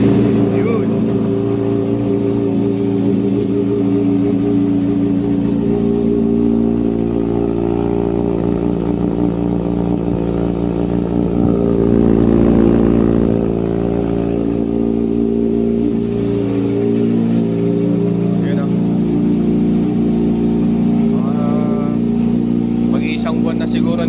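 A C6R vehicle unused for about a month idles while warming up after starting, a loud, steady engine drone with a low rumble that swells briefly midway.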